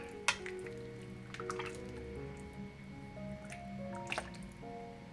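Vegetables and mushrooms being stirred into a simmering potato soup for a cheese-and-mushroom soup, giving soft wet squelching and dripping sounds with a few sharper clinks, close and moderately quiet, with no talking.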